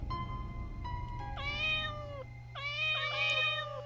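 Cats meow in The Grudge 2 flash game, several drawn-out, rising and falling meows in two bursts over a low steady hum, loud and close, with no talking.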